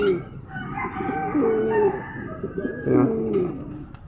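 A pigeon coos close by in a few soft, throaty warbling phrases, with a short pause between them.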